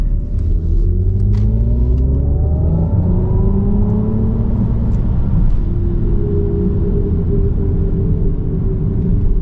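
2023 Mercedes EQS 580 4MATIC electric SUV accelerating hard to 60 mph: a loud, steady cabin rumble with smooth electric motor tones climbing in pitch throughout, no voices.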